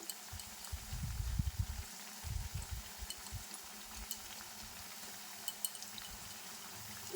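Palm-fruit malpua frying in hot oil, a soft sizzle and bubbling low and close, with louder bursts of spattering early on, then settling to a quieter steady fry with small crackles.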